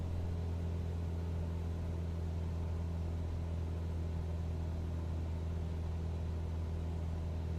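Steady low droning of a Cessna 172 engine in Microsoft Flight Simulator 2020, a constant even hum at reduced RPM with no variation or voices.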